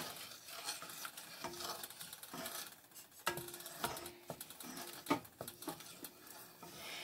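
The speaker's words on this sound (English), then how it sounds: "I'll add my sugar. Stir as I put it in." Quiet scraping and clinking of a spoon stirring sugar into a pot of Harvard beets, with irregular taps and a faint simmering hiss, no voices.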